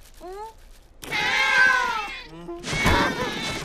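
A cat meows in two short rising calls at the start, then people talk over one another at length, with a brief higher cry in the middle.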